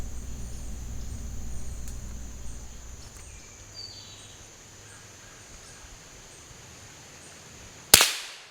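A single sharp rifle shot at a squirrel in the woods, a sudden loud crack near the end after a quiet stretch of low outdoor hum and faint bird calls.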